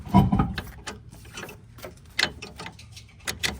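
A wrench turns a bolt on the strut of a 2014 Ford Taurus during strut replacement, making a few close metallic clicks and clanks at irregular intervals in a quiet garage.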